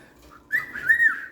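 A pet cockatiel gives a short whistled call, a faint chirp followed by a louder bright rising-and-falling whistle, close and alone.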